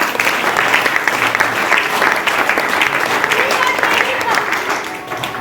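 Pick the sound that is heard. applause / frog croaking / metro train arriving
applause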